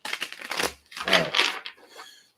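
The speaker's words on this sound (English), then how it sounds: "we'll just keep shuffling until something comes out" A deck of playing cards is riffled in several quick bursts, crisp papery fluttering that rises and falls in close, moderately loud waves with brief pauses between shuffles.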